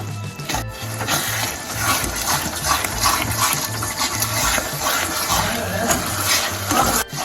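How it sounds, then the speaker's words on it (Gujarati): Water pours from a glass into a pan of fenugreek seed curry, a steady close gushing splash that runs for several seconds before stopping. "એક ગ્લાસ જેટલું પાણી એડ કરી દઈશું"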